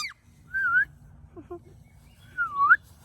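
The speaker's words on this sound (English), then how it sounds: "We're just practicing how to whistle." Children practice whistling at home, producing two rising-and-falling whistled notes a couple of seconds apart, with a faint soft murmur between them and no clear speech.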